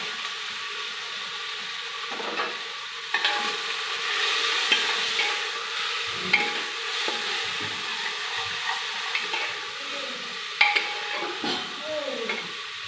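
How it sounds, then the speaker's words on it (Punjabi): Tomato and onion fry together in a pan with cumin for tempering, making a steady sizzle broken by frequent scraping and stirring clatter from a utensil. "ਤੜਕਾ ਆਪਣਾ ਭੁੱਜ ਰਿਹਾ ਜੀ"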